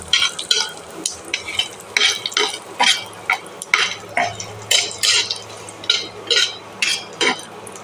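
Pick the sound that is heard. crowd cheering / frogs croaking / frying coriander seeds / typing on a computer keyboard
frying coriander seeds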